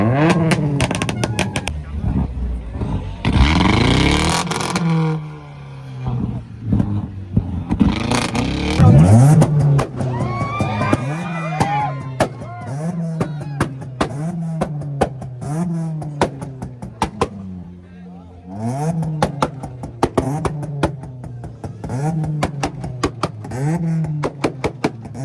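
A modified car runs and revs at an auto show: a deep engine rumble rises and falls in repeated throttle blips, with sharp pops and crackles from the exhaust and some crowd noise and talk near the start.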